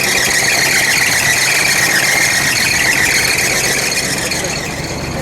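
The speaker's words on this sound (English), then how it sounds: "Got that early Chrysler squeak." A loud, steady high-pitched squeak from a 1969 Plymouth Road Runner 426 Hemi runs throughout over a rough engine rumble, easing slightly near the end.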